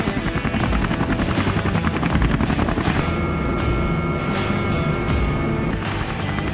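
Helicopters flying low overhead in a Pioneer Day flyover, loud rhythmic rotor thumping that rises and swells as they pass close by.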